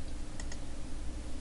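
A computer keyboard key is pressed during 3D modeling work, giving two quick close clicks early on over a steady low background hum.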